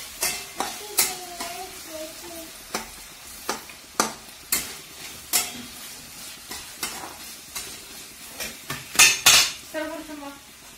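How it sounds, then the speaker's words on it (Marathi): Thinly sliced potatoes are sautéed in a pan, with repeated close clinks and scrapes of a utensil against the pan in an uneven rhythm over a low sizzle. "तर बटाटे पण टाकले ते परतायला। आणि त्याला मध्ये चांगलं परतून द्यायचे"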